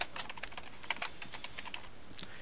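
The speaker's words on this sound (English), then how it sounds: "you can feel free to edit this text by simply typing on it" Someone types on a computer keyboard while editing slide text, producing quick clusters of crisp key clicks at an irregular pace, close and alone with no speech.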